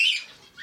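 Blue budgerigars in a breeding aviary housed alongside cockatiels give a brief, shrill squawk, followed a moment later by another short squeak.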